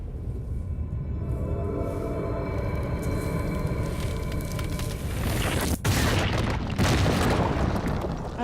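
Explosions in the video game Shadow of the Colossus, a deep booming rumble that builds and swells with a sharp burst partway through, loud and sustained without talk.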